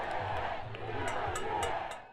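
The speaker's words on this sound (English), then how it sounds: "Boric supporters were out cheering, hugging, and waving flags in the streets of the capital, Santiago." A street crowd of political supporters cheering and shouting in Santiago, Chile after an election win, a dense roar of voices with sporadic whoops and shouts rising above it at moderate distance.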